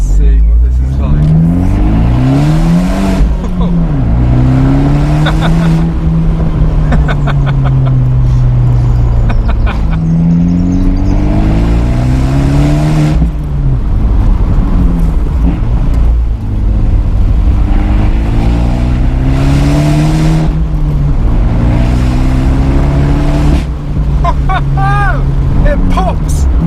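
An Abarth 124 Spider with its 1.4 engine pulls and revs steadily up through the gears while driving, its loud, continuous drone rising and falling under occasional talk inside the car.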